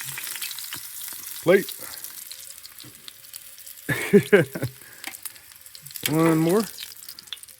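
Sausages frying at a campsite on a canoe-camping trip in the Okefenokee swamp: a continuous sizzle with sharp pops and crackles, one loud burst, while people speak briefly nearby.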